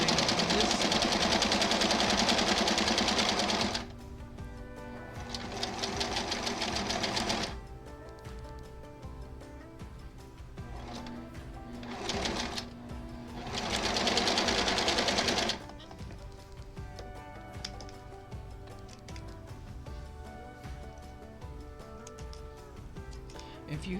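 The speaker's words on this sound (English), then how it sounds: "I'm going to put the edge of the foot on the line again and sew down the line on this side" A sewing machine stitches along a marked line, whirring in steady, fast bursts that start and stop, with quieter mechanical running in the pauses and a voice talking at times.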